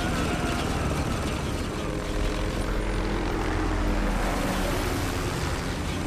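Helicopters fly in Spec Ops: The Line as a dense, continuous rotor and engine roar that fills the scene loudly without letup.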